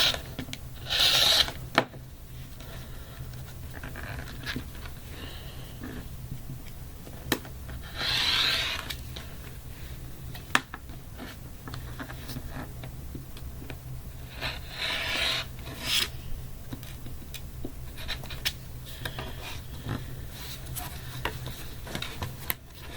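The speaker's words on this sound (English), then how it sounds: "put it on the diagonal here. And then trim this whole block" Rotary cutter and ruler trimming a quilt block on a cutting mat, giving a few short rasping strokes at close range amid quiet handling rustle.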